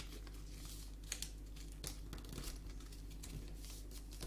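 Paper being folded by hand in a craft lesson, with soft close crinkling and crisp creasing rustles in irregular bursts, faint and alone.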